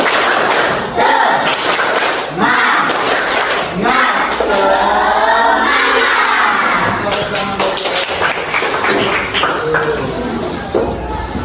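Elementary schoolchildren in a classroom doing a rhythmic spirit clap, with patterned group clapping and thumps mixed with loud chanting and shouting voices throughout, energetic and close.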